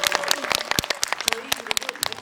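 Audience applause after a film screening with the director and cast present, a burst of dense clapping mixed with crowd noise in a cinema hall.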